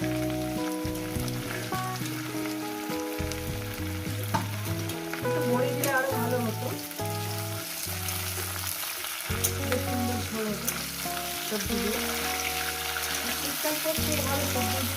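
Fish frying in a pan for a vegetable fish curry, a steady close sizzle with stirring, heard over background music with no talk.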